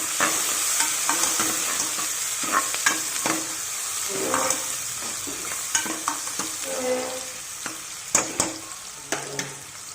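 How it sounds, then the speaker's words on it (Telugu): Onions and cumin seeds frying in a pan, a constant close sizzle broken by sharp spatula taps and scrapes every second or so, with no voices over it. "జీలకర్ర కొద్దిగా ఫ్రై అయిన తర్వాత మనము ఆనియన్స్ వేద్దాం"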